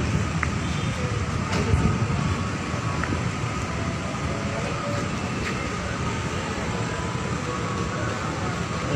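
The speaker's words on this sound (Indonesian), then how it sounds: "Sekarang KRL itu betulnya sekarang KRL-nya melintas langsung" A KRL electric commuter train rolls past on the railway, a broad continuous rumble holding steady for several seconds with faint clicks and squeals on top.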